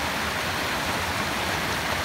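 Dense, steady broadband rushing of water fills the scene near a mountain waterfall, a constant roar with no breaks or voices.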